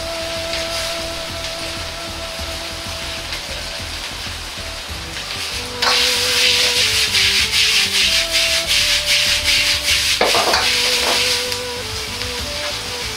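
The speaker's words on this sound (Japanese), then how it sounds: "うどんを入れ炒めます。" Udon noodles stir-fry in a hot pan for a Chinese-style fried udon, giving a continuous sizzle and scraping rustle that grows louder and busier midway as they are tossed, with no voices.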